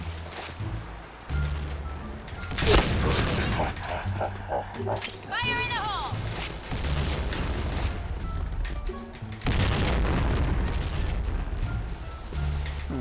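Thrown bombs detonate in the Point Blank shooter game, heavy booming blasts at intervals, with gunfire and other game effects, under near-continuous excited talk.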